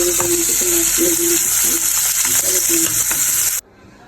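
Pangas fish with tomato sizzles loudly in a pan while a utensil stirs and scrapes with repeated metallic clinks. The close frying noise cuts off abruptly near the end.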